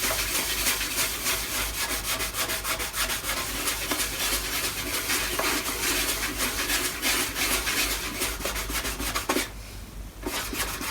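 A cloth rubs briskly over a violin's varnished wooden surface while applying String Zone varnish cleaner and polish, producing steady rapid scrubbing strokes, close and continuous, with a brief pause near the end.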